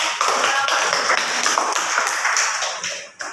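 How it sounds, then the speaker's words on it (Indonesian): Junior high school students clapping in an Indonesian language classroom, a burst of many hands applauding together, loud and sustained before trailing off at the end. "Tepuk tangan."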